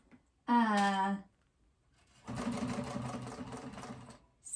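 A sewing machine stitches a seam on a fabric phone pouch, a close rapid mechanical whir in a steady burst after a short vocal sound at the start.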